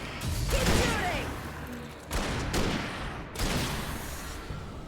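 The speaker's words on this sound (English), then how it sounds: "Keep shooting!" Gunfire in the Alan Wake video game, several loud crackling bursts of shots and impacts in waves separated by short pauses, with a player's voice mixed in.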